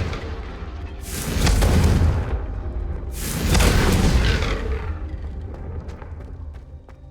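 In the video game Hogwarts Legacy, a Confringo fire spell sets off two heavy booming explosions about two seconds apart, each a loud, broad rumbling blast that fades into a quieter crackling tail.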